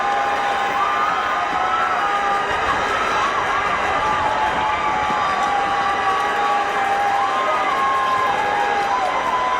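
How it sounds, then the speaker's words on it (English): A cricket crowd at Providence cheers loudly through a one-day international between the West Indies and Zimbabwe, with a constant roar broken by whistles, horns and shrill shouts. "This crowd at Providence is alive."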